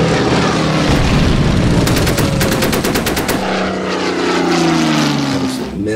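Bombing run in the WW2 strategy game Order of Battle: loud, steady propeller aircraft drone with a rapid machine-gun burst partway through, then heavy engine roar continuing to the end.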